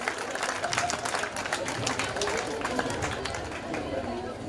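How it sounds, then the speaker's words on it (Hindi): Audience at a school annual cultural function in Ladnun claps in a dense, steady burst of applause lasting throughout, with crowd murmur beneath. "एक बार जोरदार तालियों से स्वागत करेंगे आप।"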